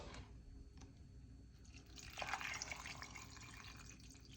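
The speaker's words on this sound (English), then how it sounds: "So what we're going to do now is get some water." Water being poured over sliced ginger for a homemade detox drink: a faint, soft splashing pour that swells in the middle and then settles, heard alone in a quiet room.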